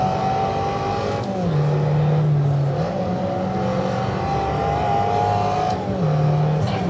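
A front-wheel-drive car's engine held loud and steady, with its pitch rising, dropping and rising again as it briefly over-revs, heard close and continuous during a drive at a car event.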